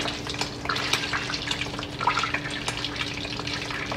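Chicken pan frying in heated oil and butter, a close, busy sizzle with crackling pops and spatters over a steady hum, no talk.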